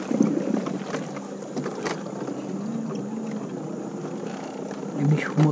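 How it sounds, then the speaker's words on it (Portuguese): A small electric outboard motor pushes a little boat through water in a preserved natural area. It gives a steady, moderate hum with low water wash and faint background sounds, and there is no talking. "O motor elétrico com toda a ruindade é bom que só apura, hein?"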